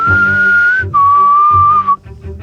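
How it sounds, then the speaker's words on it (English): A person whistles two long sustained tones, one after the other, loud and close, followed by a brief quieter pause, outdoors at Skinwalker Ranch. "We awkwardly stood here whistling for about 15 minutes."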